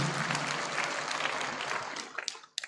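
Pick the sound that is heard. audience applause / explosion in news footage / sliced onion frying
audience applause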